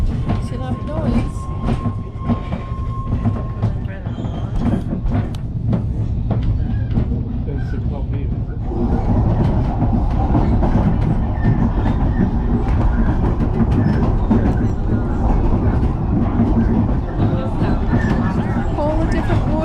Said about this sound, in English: There's a little steam train, steam engine in the front there.